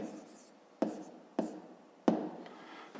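Pen scratching on paper while a math exercise is written out by hand, three short close strokes with soft scraping between them, no talk over them.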